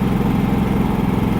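A Harbor Freight 3500 generator idles at low speed, giving a steady, continuous low-pitched engine drone with an even rumble throughout and no talk over it.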